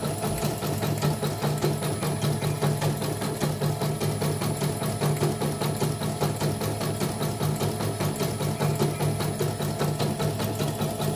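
A sewing machine runs steadily and close for about eleven seconds, a rapid, even mechanical stitching hum and clatter with no voices and no pauses.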